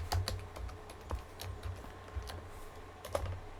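Someone types a password on a computer keyboard in a quiet room, with a short run of soft, uneven key clicks close by.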